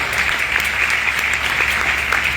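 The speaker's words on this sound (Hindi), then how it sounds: "एक जोरदार ताली होना चाहिए" An audience at a business meeting claps loudly and continuously, a dense, even wash of applause filling the whole moment.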